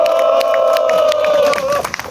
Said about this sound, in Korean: 우리 발언해주신 김민호 동지께 뜨거운 박수 보내주시기 바랍니다.